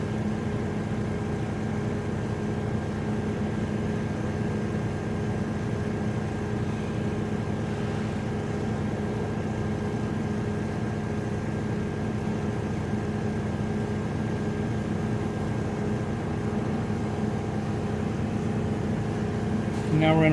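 A K&S 972 substrate cleaner spins in its dry cycle at around 2,000 RPM, giving off a loud, steady mechanical hum with a constant whine that holds unchanged throughout, and a brief click near the end.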